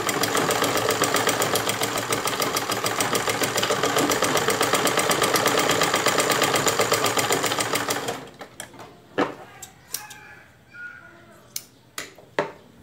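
Sewing machine stitching the shoulder seams of a thin georgette chemise, a fast, even, rapid-fire clatter running loudly for about eight seconds, then stopping and followed by scattered handling clicks and rustles.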